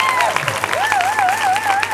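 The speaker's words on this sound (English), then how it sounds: "give yourself the loudest, most craziest, ridiculous, not just round of applause" Graduates at an MBBS pinning ceremony clap and cheer under a voice echoing over a sound system, with a wavering tone running through the crowd noise.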